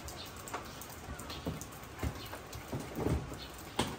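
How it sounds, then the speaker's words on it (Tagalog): Light rain pattering after a heavy downpour in rural Quezon Province, soft scattered drips and taps on surfaces, faint and close, with no voices. "Medyo tumila na ang ulan. Kanina ay sobrang lakas."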